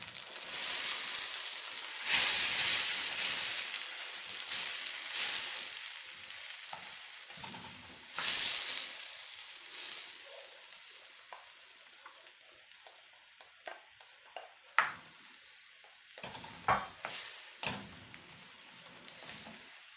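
Garden egg fries in hot oil for a Nigerian sauce, a steady sizzle broken by several loud bursts of spitting and stirring over a long stretch, with no speech.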